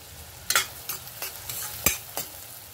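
Chopped onion frying in a pan for pav bhaji, a soft background sizzle punctuated by several sharp scraping stirs of a spatula against the pan, close and clear with no talking.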